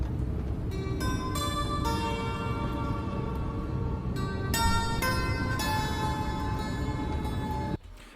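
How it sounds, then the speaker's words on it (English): A plucked, sitar-like string instrument plays a ringing melodic line with bright, buzzing overtones, steady and alone, ending with a sudden cutoff. "he plays this like guitar, sitar kind of instrument, and it sounds like this."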